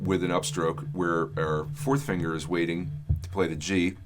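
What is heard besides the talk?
No distinct noise like a dog, phone or traffic.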